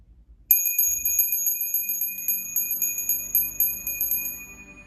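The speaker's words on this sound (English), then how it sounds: "rest into the sound of the bell all the way to its conclusion, into silence" A bright metal bell rings repeatedly in a steady rhythm, each strike clear and resonant, ringing on over a quiet background.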